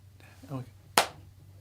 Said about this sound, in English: We get that sound. Clap.